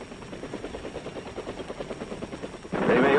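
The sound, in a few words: helicopter gunships in Vietnam, circa 1966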